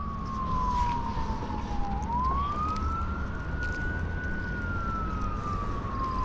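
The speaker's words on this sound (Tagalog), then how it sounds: "Pasensya na po sa mga sirena ng ambulansya." An ambulance siren near a hospital wails steadily, its pitch sliding down then rising and holding, loud and continuous over distant traffic noise as it passes.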